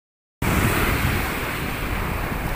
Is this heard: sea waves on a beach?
yes